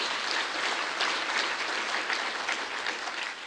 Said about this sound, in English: A big round of applause for all 4.